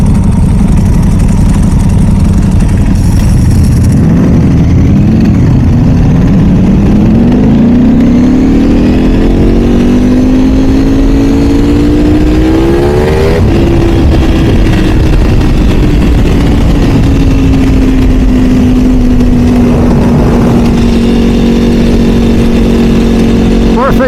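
A Ducati Desmosedici motorcycle engine idles and then revs up loud and close, its pitch climbing and holding before dropping back to a steady rumble, with a few brief rises.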